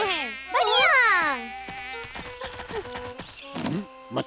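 Cartoon mosquitoes buzz in high, swooping whines that rise and fall loudly at first, then thin into scattered zips and squeaks with brief cartoon effects between them.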